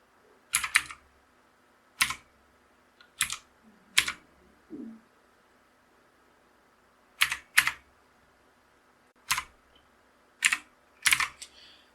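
Computer keyboard typing a boot file path while setting up a UEFI dual boot of Windows 10 and Ubuntu, heard as short separated clusters of crisp close key clicks with quiet gaps between them and no talk.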